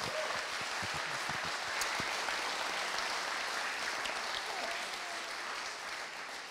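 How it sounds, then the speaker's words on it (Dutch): Hall audience at a fisheries debate applauding the speakers, a broad sustained wash of clapping from many hands that carries on evenly and fades slightly toward the end. "mag ik een heel groot applaus voor al de eh, sprekers"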